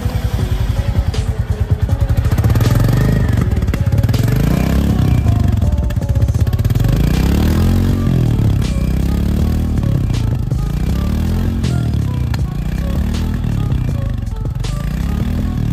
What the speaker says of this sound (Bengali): এই ইঞ্জিন থেকে কিছুক্ষণ পরে ধিক ধিক আওয়াজটি আসে